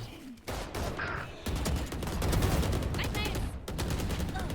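An upgraded gun fires in a competitive video game match, with fast automatic bursts broken by short pauses. It is loud and close, and speech sounds are faintly mixed in.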